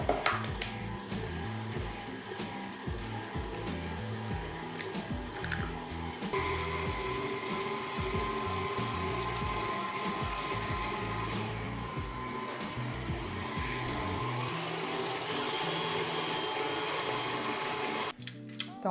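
An electric mixer whirs steadily while eggs are beaten into crinkle cookie dough, a constant high motor drone with a shift in pitch partway through and a brief stop near the end.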